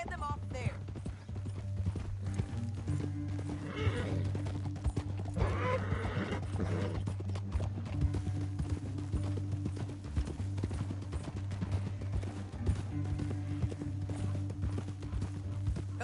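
Horse hooves gallop in Red Dead Redemption 2 with a steady, fast clip-clop rhythm, joined by whinnies and game background sound, continuing throughout.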